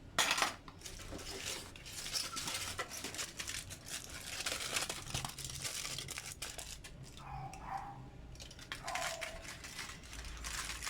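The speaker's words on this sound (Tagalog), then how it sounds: "Ngayon ay babalutin natin siya ng foil." Aluminum foil crinkles and rustles in scattered bursts as it is wrapped around a llanera mold filled with leche flan mixture, with faint clinks in between and no talking.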